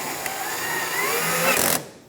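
A power driver runs a screw into a 2014-2019 Kia Soul 1.6L radiator mount, giving a steady close whirring buzz for nearly two seconds that rises briefly before cutting off.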